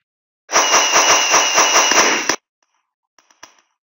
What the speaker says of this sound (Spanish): Los cohetes no se me dan muy bien a mí